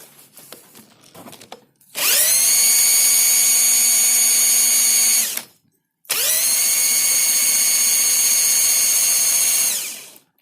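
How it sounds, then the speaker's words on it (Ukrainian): A cordless drill spins a car alternator off the vehicle in two loud sustained bursts, each winding up to a steady high whine with strong tonal harmonics and then spinning down, separated by a brief pause, with no talk. "Беремо шуруповерт і намагаємося крутити наш генератор."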